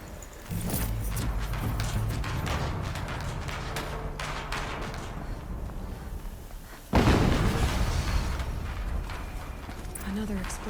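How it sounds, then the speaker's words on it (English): Loud explosion bursting in a game battle with tank turret fire, a sharp blast near the midpoint following a dense rumbling clatter, with voices talking through it. "Another explosion."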